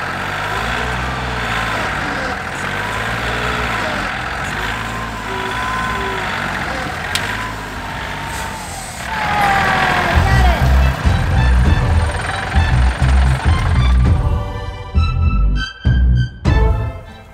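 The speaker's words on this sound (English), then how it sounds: "Man, I sure hate trying to dig roots out with this tractor." A tractor digs out roots during a backyard makeover: a steady, loud engine drone grows heavier partway through, joined by bursts of clanking and scraping from the bucket near the end.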